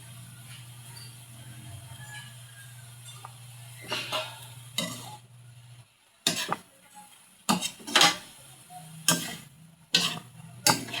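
A spoon scrapes and clatters against a hot pan while bitter gourd and egg fry, with a low sizzle underneath and several sharp knocks of the utensil on the pan, heard close with no talking.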